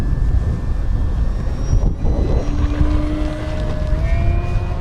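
An E-flite V1200 RC model jet at full throttle on takeoff from a paved runway, its continuous loud engine roar and rising whine carrying over outdoor wind noise.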